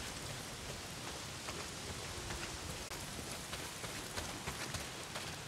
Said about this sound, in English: A lot of it's pissing down rain.